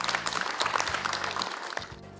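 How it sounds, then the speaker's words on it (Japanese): An audience at a yam championship awards ceremony in Yomitan claps in a steady, moderately loud burst that fades near the end. "大きな拍手お願いします。"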